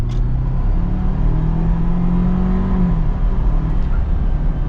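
A 2021 Ford Bronco Big Bend's turbocharged 2.3-liter EcoBoost engine pulls steadily as it accelerates, a loud continuous rumble from inside the cabin with a rising drone and a brief blow-off hiss near the end.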